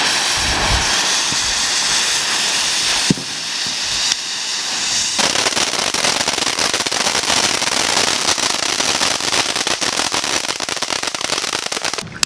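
Fireworks and firecrackers go off over a lake, a dense continuous crackling hiss with a few sharper bangs, loud and sustained, with a short quieter stretch partway through.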